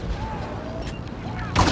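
Gunfire in the Star Wars Battlefront video game comes as a steady wash of battle noise with muffled shots and a sharper burst near the end. A faint voice sits in the background.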